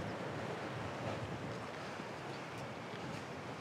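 Sea waves wash steadily in the bay at Balchik on the Black Sea coast, a continuous broad surf roar mixed with wind buffeting the microphone, with no talk.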